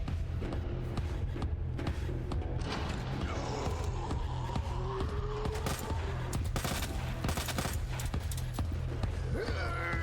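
Rapid submachine gun fire in the video game Resident Evil 2, dense bursts of sharp repeated shots crackling over a low rumbling game soundscape, loud and continuous throughout.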